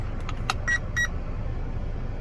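An electric Redcat Blackout SC or Arrma Senton 4x4 short course RC truck running on a LiPo battery is powered on, giving a few short electronic beeps and chirps close by, with a steady low hum underneath.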